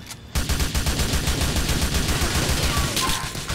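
Rapid gunfire in Grand Theft Auto IV multiplayer, a sustained burst of evenly spaced shots that starts abruptly and rattles on loudly for several seconds.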